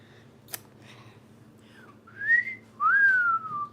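A person whistles nearby, a short sliding tone and then a longer clear upward-and-falling note, fairly loud after a tap and soft faint tones at the start.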